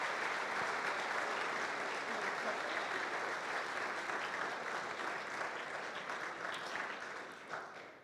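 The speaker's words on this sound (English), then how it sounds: "let's give them a round of applause." A large audience at an evening event claps in a broad, even wash of applause that holds steady for several seconds before tapering off near the end.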